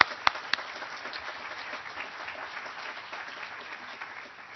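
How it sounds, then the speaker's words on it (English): A room full of people applauding at an alumni center groundbreaking, brisk clapping that begins with a couple of sharp loud claps and then settles into a steady patter. "I'm glad you got applause, John, because it says hold for applause."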